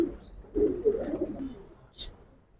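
Giribaz (Giribaz/tumbler) pigeons cooing nearby, a low rolling coo repeated in two or three soft bursts with a faint higher chirp, no talk over it.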